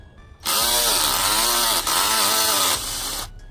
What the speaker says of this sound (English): The electric drill that could.